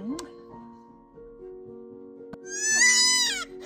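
A young lamb in a remote mountain village in Guizhou lets out a single close, loud bleat near the end, after a stretch of quieter sounds.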